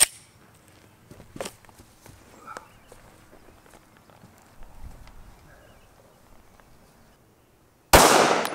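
A Glock 43 pistol fires Hornady Critical Defense ammunition in one loud, sharp report near the end, after a stretch of quiet with scattered faint clicks and knocks.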